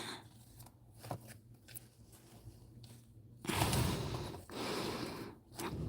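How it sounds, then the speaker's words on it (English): Scissors snip a few times close by, cutting paper, followed by rustling and crinkling of the paper being handled. "Here, I'll use scissors."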